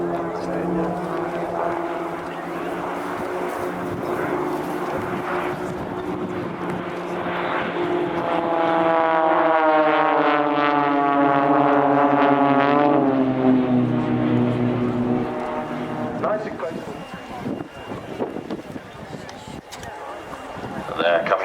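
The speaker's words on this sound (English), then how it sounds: "Blade 4 will be back for some more solo flying" Blade 4 aerobatic propeller plane flying solo at Farnborough International Airshow, its engine droning and sweeping in pitch as it passes, loudest mid-pass, with an announcer speaking over the outdoor wind noise.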